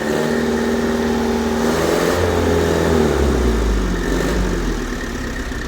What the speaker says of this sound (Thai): ช่างทอนเริ่มเร่งไล่ระบบน้ำมันแล้วครับ